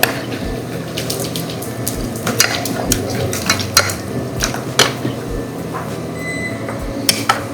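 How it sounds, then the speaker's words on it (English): A cold pat of butter is swirled into a bubbling honey sauce in a pan, making a continuous close sizzle and burble broken by light clicks and scrapes of cookware. "Drop a cold pat of butter and just swirl it in."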